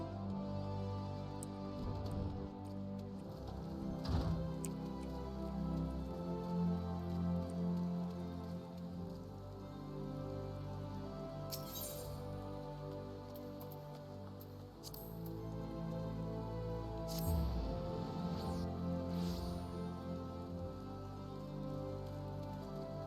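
Steady rain falls across a scene in the game Final Fantasy XIV, a continuous soft patter with occasional brighter drop hits, joined by a low hum of game ambience and a few faint clicks.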